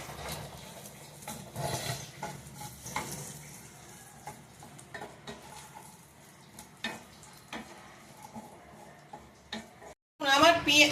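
Whole cumin seeds, a bay leaf and two dried red chillies tempering in hot oil, with a faint, steady crackle and scattered ticks under talking, then a sudden loud sizzling burst at the very end.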